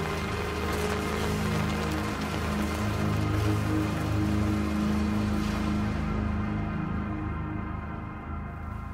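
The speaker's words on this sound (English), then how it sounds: "Is it raining?" Rain falls indoors in the video game Daymare 1994 Sandcastle as a dense, steady patter over a low mechanical hum, loud and continuous before thinning slightly near the end.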